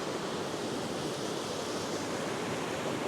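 A waterfall near Buttermere Lake in the Lake District gives a steady, broad rushing roar, close and constant with no voices over it.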